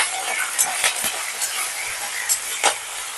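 Spices, urad dal, asafoetida, a handful of curry leaves and chopped green chillies stirred in a hot pan for masala dosa potato filling, with a steady close sizzle and repeated light scraping and clinking strokes, no talk.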